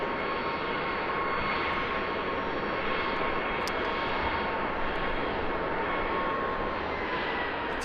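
United Airlines Airbus jet at Chicago O'Hare airport, a steady loud engine roar with a broad hiss, continuous and fairly close.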